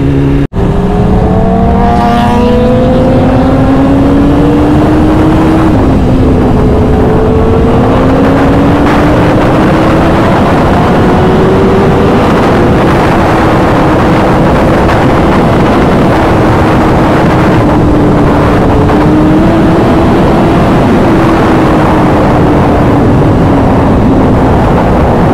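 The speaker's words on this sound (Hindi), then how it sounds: "साउंड गजब दे रहा है यार, दूर से ही मतलब पता चल रहा था कि हाँ कोई बाइक आ रही है" A loud motorcycle with an aftermarket AR exhaust rides continuously on a Sunday group ride, its engine note rising and falling through gear changes with steady wind rush and no talking.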